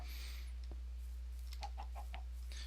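Blocky chickens on a Minecraft server farm give a few soft, short clucks in quick succession, moderately close against a quiet background with no talking.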